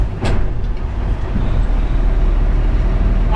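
A Western Star 4900 big rig with straight pipes and the DPF system deleted, its engine giving a loud, continuous low rumble close by, with no talk over it.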